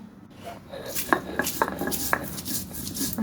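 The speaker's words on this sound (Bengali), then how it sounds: "এগুলি সবগুলি এখন আমি বেটে নেব চলুন আমরা বেটে নিই" Onion, pointed gourd peel, dried chili and hilsa fish being ground with a stone on a stone slab: a run of close scraping and knocking strokes, with several sharp clacks of stone on stone, fairly loud and with no talk.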